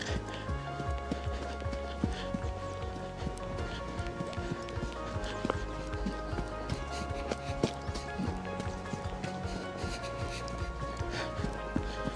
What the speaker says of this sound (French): Allez, je vais galoper un peu.